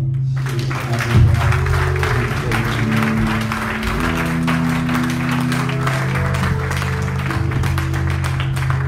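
A church congregation claps steadily and loudly all the way through during a sermon service, a dense sustained applause with a murmur of voices and some sung or called-out tones mixed in.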